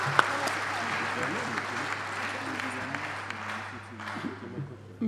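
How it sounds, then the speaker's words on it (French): Steady applause from an audience at a financial awards ceremony, moderate and continuous throughout, with a low hum and faint voices underneath. "Donc vraiment un gros applaudissement à Pathé Dione."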